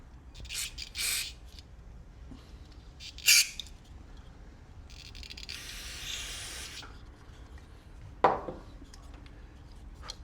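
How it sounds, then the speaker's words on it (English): Several short hissing bursts of aerosol cleaner sprayed into the holes of a plastic Briggs & Stratton carburetor, separated by pauses, with faint handling clatter in a quiet room. "I spray every little hole I can come up with"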